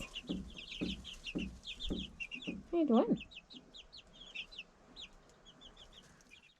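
Chickens cluck in a newly finished backyard coop, with rhythmic low clucks and a busy layer of high peeping from chicks. A person speaks briefly and softly under the birds.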